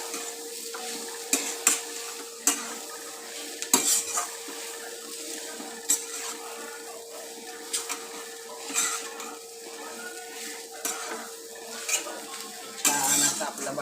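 Masala roasts in a pan for samosa filling under a faint steady sizzle, punctuated by repeated sharp clinks and scrapes of a utensil stirring against the metal pan.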